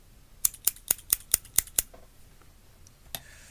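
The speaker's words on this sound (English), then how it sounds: "I could play with scissors instead." Scissors snip seven times in a quick, even rhythm, close and crisp, followed by a pause and one last faint snip.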